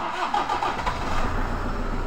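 A 2005 Toyota Hilux diesel engine catches and runs, a close mid-pitched mechanical clatter that settles into a steady idle for about two seconds with no talking.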